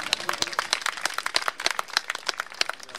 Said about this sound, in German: Auch mal einen Applaus für die Neuen.